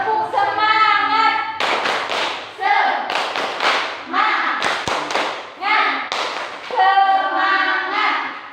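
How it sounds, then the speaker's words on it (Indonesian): Schoolchildren standing in a primary classroom perform a rhythmic spirit clap, with bursts of patterned hand claps alternating with chanted young voices, close and lively. "Tepuk semangat."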